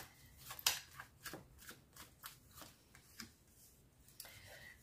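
Oracle and tarot cards are shuffled by hand, with a string of soft, papery riffles and flicks close up and quiet.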